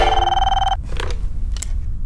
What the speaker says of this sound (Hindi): लोगों के कॉल पे कॉल आ रहे हैं